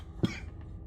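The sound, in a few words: cough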